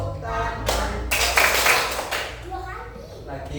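In a classroom movement exercise, a burst of hand claps lands among children's voices and a teacher's chanting, loud and close, then fades back to talk.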